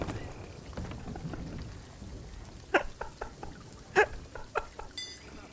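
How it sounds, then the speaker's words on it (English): Storm in the pirate game Sea of Thieves: steady rain pours throughout, with sharp cracks and thumps of thunder or spray breaking through in the second half, no talk. "There's a storm. It's really loud."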